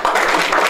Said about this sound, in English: I want everybody to give a round of applause to this amazing team